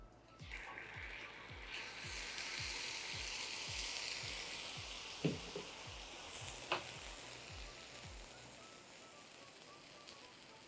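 Warm cream poured into hot amber caramelized sugar, a rushing, bubbling sizzle that swells and stays steady, close up, under a faint low rhythmic rumble and without speech.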